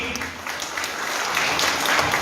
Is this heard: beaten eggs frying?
no